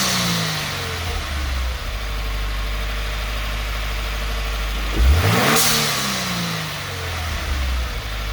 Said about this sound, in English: you can hear the sound of the blow-off valve, and it's right before it starts to come down on rev, you can hear it shutting